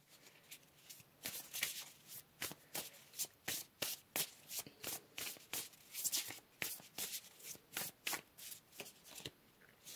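Tarot cards are shuffled by hand in a fast, regular rhythm of crisp riffling bursts, close up and fairly quiet, with no voices over them.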